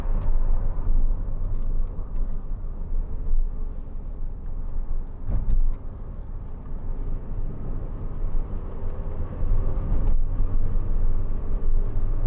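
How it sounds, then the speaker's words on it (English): A steady broad rush of fan and wind noise fills the cabin of a moving 2004 MG TF 1.6, low and constant with small bumps and no talking. "The fan's making probably the most noise, I think."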